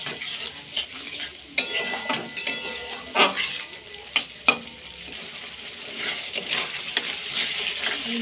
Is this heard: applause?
no